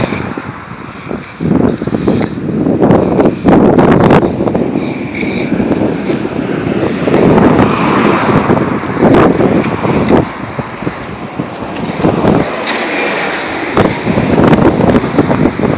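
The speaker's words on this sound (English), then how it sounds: "The wind has just picked up it's already starting to blow stuff around." Strong wind roaring during a haboob dust storm, a loud, continuous buffeting rush with gusty swells and microphone wind noise throughout.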